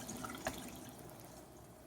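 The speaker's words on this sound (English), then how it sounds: "I want to squish all of that dirty water out of there" Dirty water squeezed by hand from freshly hot-water-scoured wool, heard as a faint, close trickle and drip with one brief splashy burst early on, then a soft steady wash of liquid that fades slightly, with no talking.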